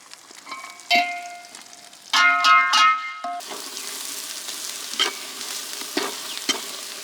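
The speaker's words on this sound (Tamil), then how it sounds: "இப்போ பார்த்தீங்கன்னா அந்த மசாலா வந்துட்டு ஆயில் லைட்டாக ஃப்ரை பண்ண விடுறோம்" Curry masala powder frying in oil for village-style mutton curry: a close sizzle follows several sharp metallic clinks and ringing taps of a spoon against the pan, then the frying continues with occasional scraping stirs.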